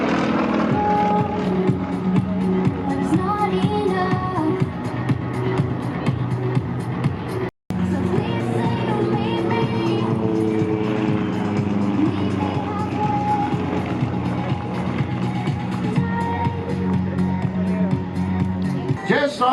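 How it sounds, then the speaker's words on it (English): Yak-18T propeller aircraft flying aerobatic rolls at an airshow, a steady distant engine drone with a wavering pitch, heard under continuous commentary with crowd noise around it. "as Ross performs for us another series of graceful rolls"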